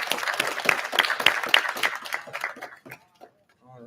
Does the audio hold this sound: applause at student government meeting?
yes